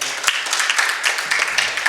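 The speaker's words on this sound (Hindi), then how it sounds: "ज़ोरदार ताली एक बार हो जाए।" Applause from a poetry festival audience, a dense steady patter of many hands clapping close by for the whole moment with no talk over it.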